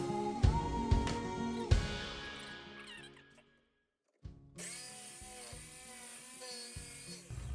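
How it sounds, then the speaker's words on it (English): A power drill bores and sands a hole sized for a steel stake on a hand-built Mongol hooked lance, with short whirring bursts, a quiet gap, then a steady grinding run close by. "I drilled out this hole, and I sanded it down to fit our steel stake"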